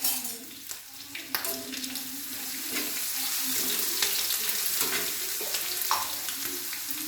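Prawn pickle with curry leaves stirred in a hot pan, a steady wet sizzle under scraping spoon strokes, fairly close and continuous throughout.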